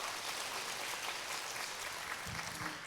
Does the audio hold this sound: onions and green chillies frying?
no